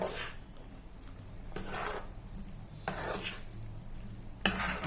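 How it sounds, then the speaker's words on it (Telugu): Ghee, jaggery and roasted cashews stirred in a pan for kaju chikki, with repeated scraping strokes of a spoon against the pan, close and fairly loud, in bursts of about a second. "ఇలాగా నెయ్యి వేసిన తర్వాత బాగా కలుపుకోవాలి"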